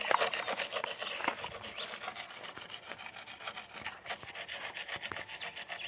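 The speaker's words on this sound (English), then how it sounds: "So you clean out the little rough part in there." Rough bits are scraped and rubbed out of the inside of a concrete baluster mold in Jamaica, making close, gritty, rasping strokes in an uneven rhythm, louder at the start.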